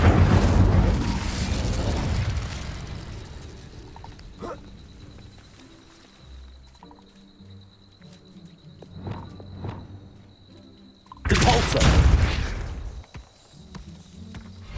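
Incendio fire spell cast in Hogwarts Legacy, heard as a loud burst of whooshing flame at the start, quieter game sounds and a low steady tone in between, then a second strong fiery blast near the end.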